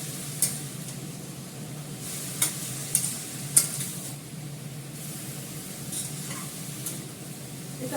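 Vegetarian vegetable curry with turmeric sizzling and frying in a pan as hot water is added, a steady hiss with a few sharp crackles and pops close by.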